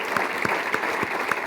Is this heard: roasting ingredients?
no